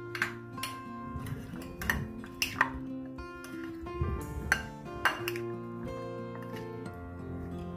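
A spoon mixes peanut chaat with lemon juice in a bowl, making a series of light metallic clinks and taps against the bowl at an uneven rhythm, close and fairly quiet, with faint background music.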